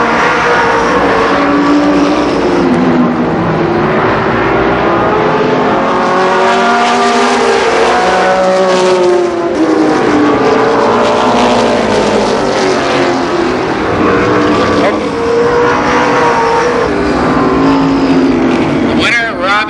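Race cars on the track at Columbus Motor Speedway in 1990, their engines roaring loudly and continuously with rising and falling pitch as they pass, recorded from nearby.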